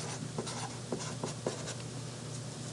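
Physics equations written out by hand, probably marker or pen on a board, with faint scratchy strokes coming in short bursts over a steady background hum.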